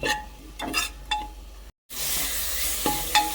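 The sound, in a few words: stirring dal curry with tomato and onion in a pan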